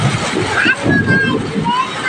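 Heavy thunderstorm rainwater splashes and sloshes nearby in a steady, loud wash, while someone talks continuously over the running water.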